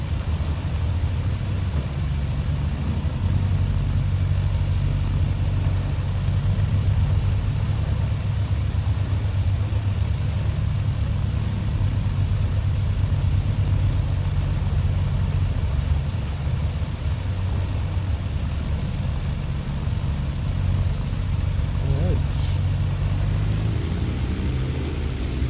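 A BN-2 Islander's piston engines drone at a low, steady taxi idle in Microsoft Flight Simulator, a continuous hum along a long runway toward the terminal, with a brief sharp click near the end and a slight rise in pitch.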